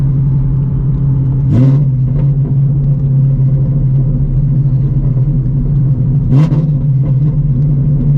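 A 950HP Shelby GT350 with a new transmission drones at a steady low pitch from the cabin, with two brief gear-shift swells where the engine note lifts and settles.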